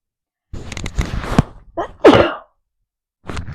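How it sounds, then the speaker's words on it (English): A single loud, close human sneeze bursts out after some handling noises, followed by a short pause and a faint rustle. "I just sneezed."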